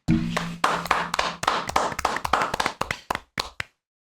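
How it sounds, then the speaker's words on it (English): A small group claps together in a podcast room, roughly a dozen sharp, close claps in an uneven rhythm that trail off and stop just before the end, with a brief voice at the start. "Let's clap it up"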